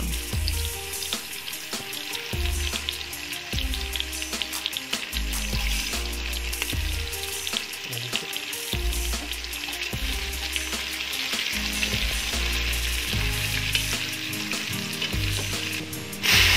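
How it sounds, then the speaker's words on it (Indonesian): Onion and dried spices sauté in a hot pan for cooking nasi kabsah, giving a steady loud sizzle with repeated scraping and stirring knocks throughout and no voices. "Lanjut kita tumis bawang bombay, rempah kering sampai aroma wanginya keluar."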